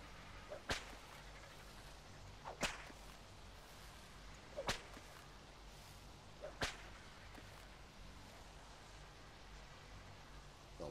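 A whip cracks in the video game Ark: Survival Evolved, four sharp snaps spaced roughly two seconds apart over a faint, steady background wash.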